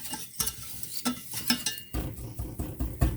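A spoon stirs dried oregano and cumin into a thick bean mixture in a pot, giving a run of quick close scraping and clinking strokes over a low sizzle.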